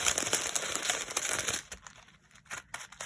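Decorative gift wrap with a bunny print is folded over the top of a bag, giving close, busy crinkling and rustling that eases off halfway through, then a few softer crinkles.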